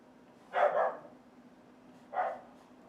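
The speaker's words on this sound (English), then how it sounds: "That's my dog." A dog barks twice, close by and fairly loud. The first bark is the longer and fuller of the two, and a second, shorter bark follows after a pause of about a second and a half. A faint steady hum sits under both.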